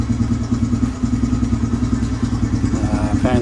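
A Honda TRX 250EX ATV engine runs steadily nearby after a carburetor rebuild, with a low, throbbing idle and some rattling.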